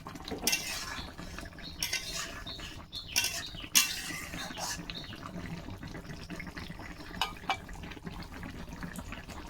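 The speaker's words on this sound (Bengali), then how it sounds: "আস্তে আস্তে ছেড়ে ছেড়ে ধনে গুঁড়োটা একটু মিশিয়ে দেবো সব জায়গায়" Coriander powder being stirred into a curry in a pan, a spoon scraping and clinking against the metal in short irregular strokes with faint sizzling underneath, close and moderately quiet, no voices.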